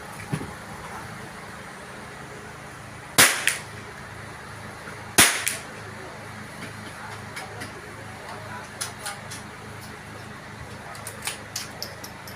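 Two sharp, loud .22 rimfire rifle shots ring out at a shooting competition, about two seconds apart, followed by scattered quieter clicks and faint background noise.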